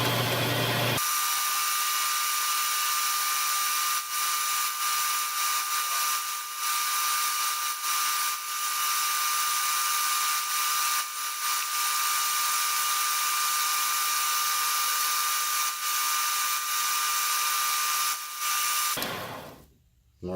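A milling machine cuts steel on a home-shop setup, giving a continuous high whine with steady hiss that holds for nearly twenty seconds, close and loud, then winds down at the end; no one speaks.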